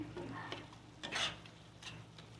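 Boiled potatoes being mashed in a pot, a few soft squelching presses and scrapes of a utensil against the pot, close but quiet, with no talking.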